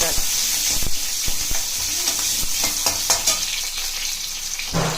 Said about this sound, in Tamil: இதை நல்லா வதக்கிட்டு இப்போ இந்த சின்ன வெங்காயத்தை ஆட் பண்ணிக்கோங்க